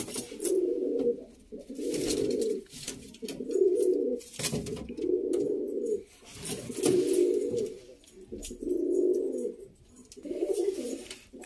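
A pair of kabra pigeons, male and female, coo close by in a steady series of low, rolling calls, roughly one every second or two, with faint background noise.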